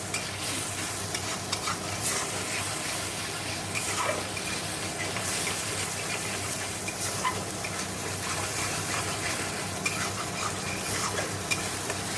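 Spice masala being fried and stirred in a pan for a home-cooked curry, a steady close sizzle with scraping spoon strokes running throughout, no voices over it.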